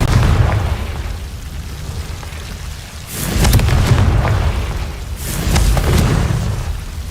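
Confringo fire spell explosions in Hogwarts Legacy, two heavy booming blasts with crackling bursts several seconds apart over a rumbling, rain-like ambient bed.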